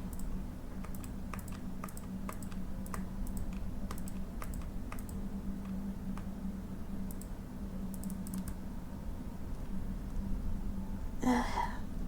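Keyboard typing in the video game Cloud Climber: a run of light, irregular key clicks scattered across several seconds over a steady low game hum, with a brief brighter burst near the end.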